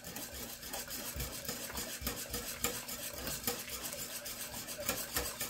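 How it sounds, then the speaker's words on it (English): A roux being stirred steadily into a pot of cream of broccoli and cheese soup, a soft continuous scraping with rhythmic swishes and a faint sizzle, close and unaccompanied by speech. "Then I'm going to take my roux and just keep stirring."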